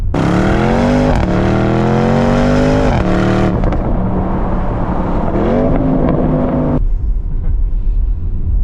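A 2023 Porsche Cayenne GTS engine revs hard nearby, a few loud climbing sweeps that drop back, then settles into a lower idle before cutting to quieter background, no talking.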